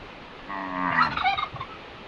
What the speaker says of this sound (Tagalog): Naglilimlim na tong mga pabo natin.